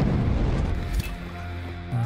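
Booming explosion in the stealth game Hitman, a loud low-frequency blast at the start that rumbles and decays over about two seconds, with a second thump near the end.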